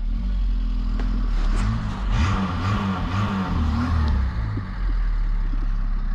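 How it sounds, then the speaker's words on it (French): A 1986 Peugeot 205 SR with a 1.3 XY7 Talbot engine runs close by, a steady low rumbling idle with a faint rhythmic clatter and small swells in engine note. "on va démarrer la voiture pour se rendre compte qu'elle démarre au quart de tour avec le petit bruit spécial des moteurs Talbot"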